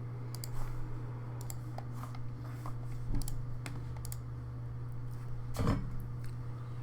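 Keys clatter on a computer keyboard while buffer overflow lab code is written: irregular close clicks and taps, with a few louder thumps and pauses, over a constant low electrical hum and no talking.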